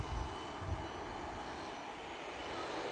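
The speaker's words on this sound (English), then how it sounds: "could hear the jet roar." An American Airlines Airbus A321 jet departing DFW airport gives a continuous, heavy engine roar with deep rumble, steady and fairly distant, with no one talking.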